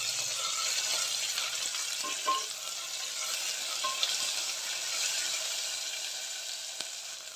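Sliced onions and green chillies sauté in a hot pan for a mushroom biryani, giving a steady, close sizzle with occasional stirring scrapes and light clinks throughout.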